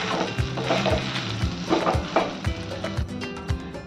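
Potatoes in a pan being stirred with turmeric and salt. A spatula scrapes and knocks in a steady rhythm over a bright, continuous sizzle. The sound is close and loud, and no one speaks.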